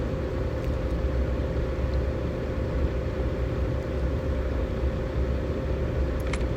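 A turbocharged daily-driver car in a roleplay video game rumbles steadily as it pulls out, its engine giving a loud, constant low drone without talking.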